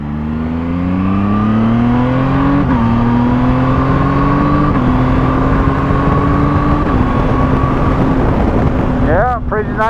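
Zontes 703F motorcycle pulls hard through the gears, loud close engine climbing in pitch, dropping briefly at each of several upshifts, then rising again amid heavy wind rush.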